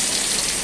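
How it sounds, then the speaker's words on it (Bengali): Heavy rain pours down in a dense, even hiss of drops drumming on surfaces, loud and continuous with no voices. "জোরে বৃষ্টি নামে, রোজ এই টাইমে বৃষ্টি নামছে"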